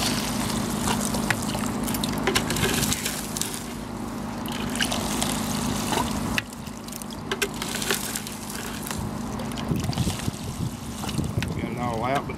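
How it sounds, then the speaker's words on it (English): A hand dredge sucks dirt and water out of a gold sluice, a rough gurgling, trickling rush with wind buffeting the microphone. Someone talks intermittently over the noise. "Because I'm about to suck all the dirt out."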